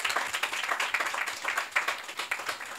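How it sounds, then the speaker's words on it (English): Small audience applauding a panelist at a music publishing panel discussion, moderate clapping with individual claps audible in an uneven, continuous patter. "So a round of applause for Ade."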